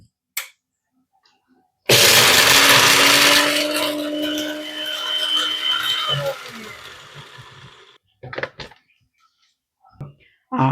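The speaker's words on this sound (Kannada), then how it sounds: "ಇವಾಗ ಮಿಕ್ಸಿ ಆನ್ ಮಾಡ್ಕೊಳ್ಳೋಣ" An electric kitchen mixer grinder powdering fried spices runs loud and steady for about six seconds, then stops, followed by a few short knocks and clatters.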